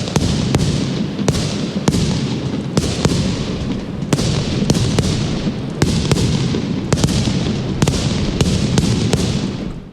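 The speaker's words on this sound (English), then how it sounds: "there have been fireworks going off in all 5 boroughs till as late as 3 or 4 a.m. every single night" Fireworks burst repeatedly over a city at night, sharp cracks and booms going off at an irregular pace across a steady rumbling background, with no voices.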